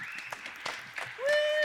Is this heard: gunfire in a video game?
no